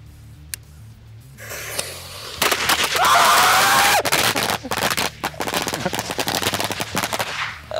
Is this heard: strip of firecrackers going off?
yes